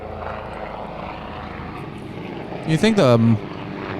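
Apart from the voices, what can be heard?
helicopter flying overhead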